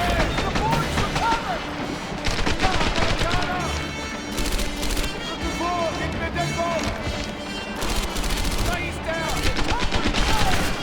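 Dense gunfire from the World War II shooter Medal of Honor Airborne, with rapid machine-gun bursts and shots layered into a steady loud barrage, plus game music and effects underneath.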